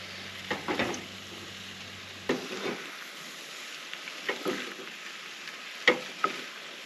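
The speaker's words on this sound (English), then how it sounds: "we're throwing that into the pot, and then we're gonna stir it up" Food being stirred in a pot at a van camp in a parking lot, with sizzling frying underneath and a few soft scrapes and knocks of the utensil against the pot, close and fairly quiet.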